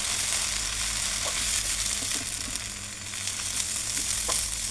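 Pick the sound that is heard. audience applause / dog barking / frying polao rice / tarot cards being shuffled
frying polao rice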